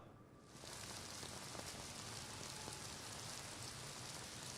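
Heavy rain pours down at night in Pune, a dense, steady roar of drops on surfaces that swells in after a quiet start and stays constant.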